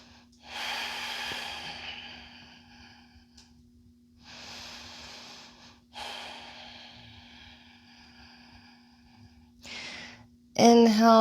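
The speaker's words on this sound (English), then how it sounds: "Breathing." Slow, deep breathing during a yoga flow: several long, audible exhales through the nose, each lasting a second or two, separated by quiet pauses, close to the mic. A voice briefly speaks at the very end.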